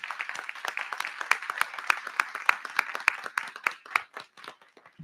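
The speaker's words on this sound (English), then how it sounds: "Can we give them a huge round of applause, please?" An audience at a board of education meeting claps warmly, a dense patter of hands that stays steady before thinning out toward the end.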